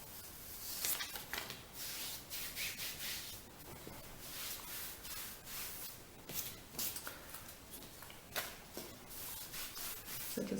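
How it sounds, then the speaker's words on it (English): Close, steady rubbing and light brushing of kinesiology tape being smoothed down onto an arm for golfer's elbow, soft continuous friction with scattered brief scuffs and no talking. "So just rub that to make sure that it's stuck."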